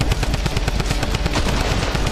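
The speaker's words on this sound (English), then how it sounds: "getting up close and personal with the double barrel to take down Misfits Freak" Double-barrel shotgun fire in a video game comes as loud, dense, rapid gunshots that repeat in an almost continuous rattling volley at close range, with no talk.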